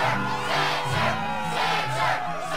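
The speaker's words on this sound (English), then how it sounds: "the crowd is fired up, so you know what comes next." Roaring crowd noise from a Kingdom Hearts 2 struggle tournament arena, a steady dense wall of cheering and shouting voices that stays loud and continuous throughout.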